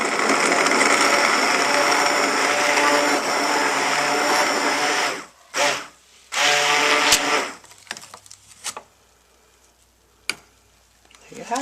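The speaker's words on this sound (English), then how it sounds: "It's a 4-in-1 hand blender." A 4-in-1 hand blender runs loud and steady for about five seconds, then cuts out and restarts in short bursts before stopping, leaving faint clicks and handling noise.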